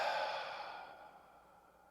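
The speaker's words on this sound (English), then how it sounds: "Take a couple deep breaths." A single deep exhale, a close, soft breathy sigh that fades out over about two seconds in a quiet room.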